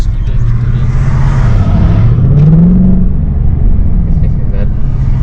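Mercedes-Benz E63 AMG engine rumbling from inside the cabin while driving, a low throaty drone that rises in pitch as the car pulls forward, with people talking over it.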